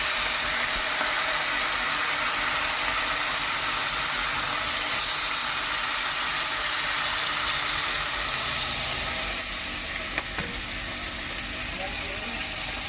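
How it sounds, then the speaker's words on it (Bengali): Fish fries in a pan with a steady, close sizzling hiss that stays even throughout, while a voice speaks over it. "এখন আমি মাছটা ভেজে নেব"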